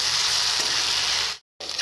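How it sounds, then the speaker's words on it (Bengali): Pointed gourd pieces hit hot oil and spices in a pan, giving a loud, steady sizzle and hiss that cuts out briefly before resuming. "এবার পটল দিয়ে দিচ্ছি।"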